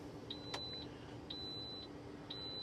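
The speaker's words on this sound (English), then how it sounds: "I think it's beeping because Ryan's not wearing his seatbelt" Quiet repeating warning beeps inside a Scania truck cab, three short even tones about a second apart, faint over a low engine hum, with a brief click near the start.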